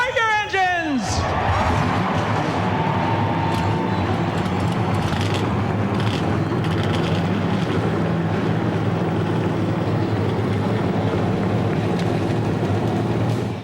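Race car engines fire up together at Bristol before the Food City 500, a loud, steady roar of many V8 engines that fills the whole clip. A pitch sweep rises at the start, then a dense rumble holds, with an announcer's voice over it.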